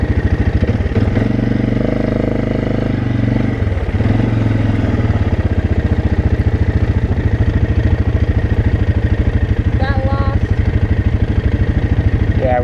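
A Polaris Scrambler off-road vehicle's engine drones loudly and steadily during a ride, with a rapid pulsing throb and a brief shift in pitch early on. A short burst of clatter comes near the end.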